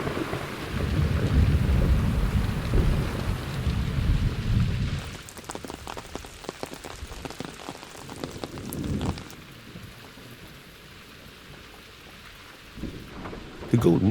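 A summer thunderstorm with heavy rain sweeps over the hills of Monfragüe, Spain, with loud, dense rain and rumbling thunder at the start, then a lighter, steadier patter of rain before another swell near the end.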